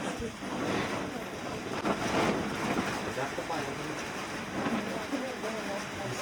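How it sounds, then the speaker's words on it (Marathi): Rain falls at night at Vasota Fort while trekkers shelter under a shed, a steady, dense hiss that fills the whole clip without letting up. "रात्रीचे 3 वाजले आणि अचानक पाऊस चालू झाला."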